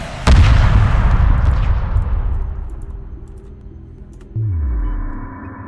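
Missile corvettes firing in the space strategy video game Homeworld 2: a single loud blast with a long decaying rumble, then a lower falling whoosh near the end, no talk.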